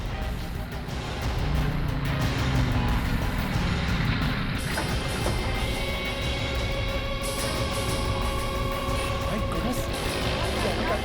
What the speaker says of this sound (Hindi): सेठ जी यहाँ ट्रैफिक बहुत है,